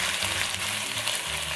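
An eel fries skin-side down in a lightly oiled wok, giving a steady, close crackling sizzle that holds even and unbroken throughout the brief moment.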